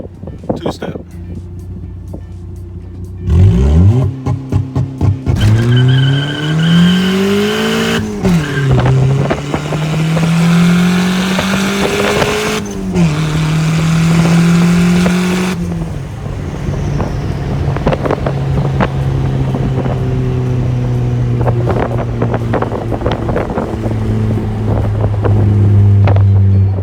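A turbocharged D16 engine in an '89 Acura Integra Turbo running two-step launch control, revving and holding a loud steady note with rapid popping, then dropping to idle while wind buffets the microphone and people talk.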